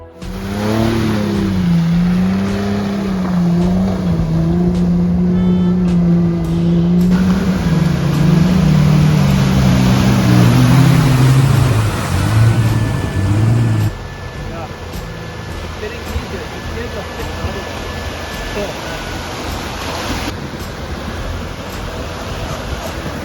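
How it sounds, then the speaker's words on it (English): Jeep off-roaders crawl over rough off-road terrain, engines revving and straining with rising and falling pitch for several seconds before fading into a broad rumbling wash of noise, with voices talking over it. "Apparently this was the perfect time for some of our friends to play with their off-roaders. Jeeps will be Jeeps."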